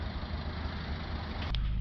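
A Toyota Yaris 1.4 D4D diesel engine with a soot-clogged particulate filter idles steadily at low volume, with a brief knock near the end.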